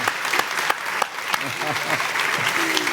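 Audience applause in a Brazilian interview program, a steady wash of clapping with some voices mixed in and sharp individual claps standing out near the microphone.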